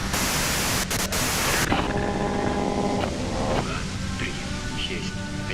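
Harsh radio white noise in the detective game Disco Elysium, loud static hiss that drops after a couple of seconds into quieter crackling with faint tonal bands.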